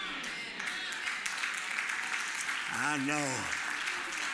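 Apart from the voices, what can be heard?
scattered clapping from a church congregation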